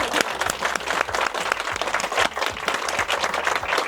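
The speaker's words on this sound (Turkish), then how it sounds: "Profesör Doktor Serdar Evren için bir alkışla" An audience at an astronomy and stargazing festival applauds a speaker, a dense, steady burst of many hands clapping that fills the space, with faint crowd voices underneath.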